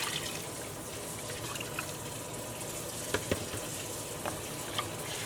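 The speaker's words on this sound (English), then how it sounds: "We're gonna add the water now and let it soften up the other roots." Water poured into a pot of beef sancocho with root vegetables, a steady soft trickle and light sizzle in the kitchen, with a few faint clinks and no talk.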